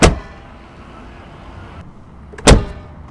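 A 1980s Mercedes diesel car door shuts with a solid, close thud, set against a low steady hum, followed by a second sharp slam a couple of seconds later.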